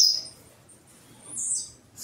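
A small pet bird gives a few high, thin chirps, one at the start and another just past the midpoint, close and clear against near silence.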